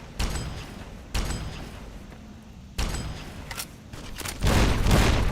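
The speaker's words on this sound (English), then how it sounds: "Here's a grenade machine gun." Grenade machine gun firing in Fallout New Vegas, heavy repeated booming bursts with sharp onsets and rumbling tails, growing louder and denser toward the end.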